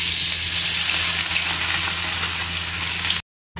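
Rui fish frying in hot mustard oil makes a loud, continuous close-up sizzle over a low electrical hum, cutting out briefly at the very end.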